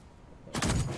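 A sniper rifle fires in a battle royale video game, one abrupt loud blast breaking a quiet hum about halfway through and ringing on briefly.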